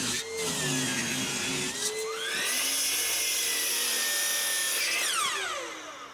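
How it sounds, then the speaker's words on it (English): A table saw whines as it trims a wooden spindle blank close to final size, a loud close motor drone whose pitch dips and rises as the blade bites the wood, then winds down at the end. "trimming it down close to the final size on the table saw"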